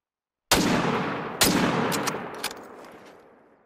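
Two loud, sharp rifle shots ring out in a hunting game, the second about a second after the first, each trailing a long echoing decay, followed by a few fainter distant cracks fading out.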